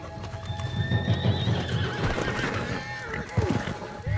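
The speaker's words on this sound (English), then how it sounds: "Definitely spooked the horses." Spooked horses in Red Dead Redemption 2 neigh and whinny in repeated high cries over clopping hooves, with someone talking through the commotion.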